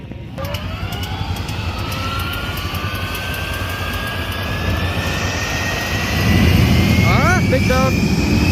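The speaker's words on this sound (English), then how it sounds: "Run number 2 coming from the jet car. This is going to be a full pull." A jet car at Kentucky Dragway making a full-pull drag strip run: a loud, sustained roaring whine with a rising pitch that swells toward the end, heard near and overwhelming the background.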